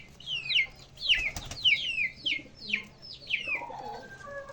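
Fancy pet pigeons give a run of short, rising-then-falling cooing calls, about six in a row at a steady pace, close and clear over a quiet background.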